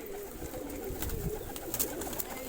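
Several pigeons of assorted breeds give soft, low, repeated coos close by, mixed with light rustling and clicks, with no speech.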